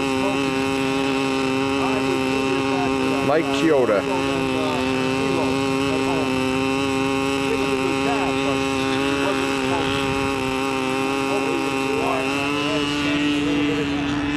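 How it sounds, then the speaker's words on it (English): A small model aircraft engine runs at a steady, droning pitch with buzzing harmonics in a windy outdoor setting, while someone talks briefly over it. "He actually got the engine started."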